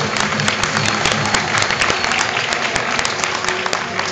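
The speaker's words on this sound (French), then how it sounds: "Je pense que ça mérite quelques applaudissements quand même" An audience applauds a dog-training demonstration featuring an eighteen-month-old dog at a canine school, loud continuous clapping filling the whole stretch with faint crowd murmur underneath.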